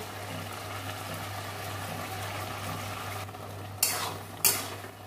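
Poppy seed paste stirred into cooking drumsticks, potatoes, ridge gourd and jackfruit seeds in a pan, a soft steady sizzle under a low hum, then two sharp scrapes of the spoon near the end.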